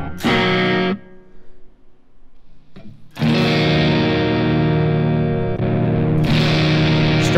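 A front-pickup electric guitar is played through a high-gain headphone amp model: loud, distorted chords ring out, break off into a brief near-silence, then return as a long, thick, saturated passage close up.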